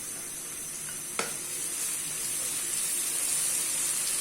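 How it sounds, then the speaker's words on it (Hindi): Ginger and garlic fry in a pan, giving a steady, fairly loud hiss and sizzle throughout with one brief clink near the start. No voices are heard. "अदरक लहसुन डाल के इसको हमने हल्का सा फ्राई कर लिया है"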